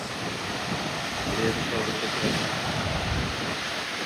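Steady roaring rush of Niagara Falls, broad and continuous, with faint talk underneath.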